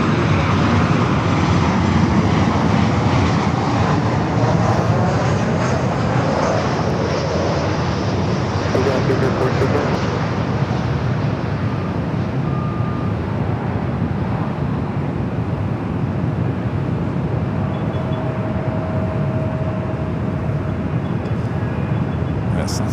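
An Emirates A380 pushing back from a Tom Bradley terminal gate at LAX, heard as a steady, loud broadband jet engine roar that holds at a constant level throughout, with faint tonal whines on top.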